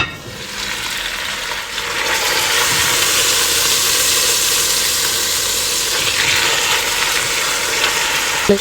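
Pork browns in a pot, giving a steady, loud sizzle and frying hiss that stays constant throughout, close up and without talk.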